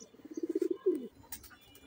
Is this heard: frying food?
no